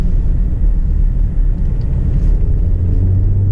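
Range Rover Velar SUV driving on the road, its steady low engine and road rumble droning continuously from inside the cabin with no talk.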